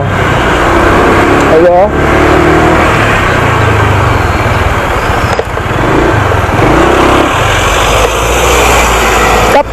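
A Honda Click 125 scooter-style motorcycle runs nearby with a loud, steady engine drone, rising and falling slightly as it revs, with short speech now and then.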